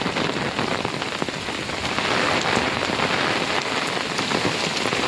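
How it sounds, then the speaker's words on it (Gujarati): Steady monsoon rain pours down over farmland, a dense even patter of drops hitting surfaces all around, with no voices and no letup. "કેવો કાંઈ જો વરસાદ પડે છે"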